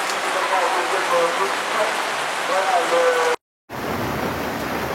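Steady, dense rain pours down close by at a motocross race in Notre-Dame-des-Landes, a continuous hiss of drops on a surface that cuts out abruptly for a moment before resuming.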